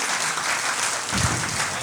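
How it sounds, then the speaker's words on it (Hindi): Audience applause at an Urdu-Hindi mushaira and kavi sammelan poetry gathering in Delhi, a steady dense wash of many hands clapping that continues throughout with a slight swell near the end. "एक बार जोरदार तालियां बजा दीजिए"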